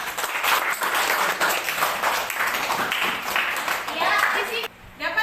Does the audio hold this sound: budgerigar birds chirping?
no